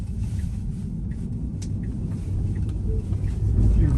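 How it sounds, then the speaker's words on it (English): A 2018 Tesla Model 3 rolls fast over railroad tracks, a steady low road rumble with light clunks and a heavier surge of thumping near the end. "You're going too fast over the railroad tracks"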